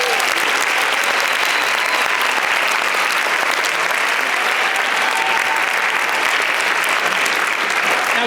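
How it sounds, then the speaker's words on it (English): Sustained applause from a large concert audience at a choir performance, dense clapping that stays steady and loud throughout without a break. "Would you give them a round of applause?"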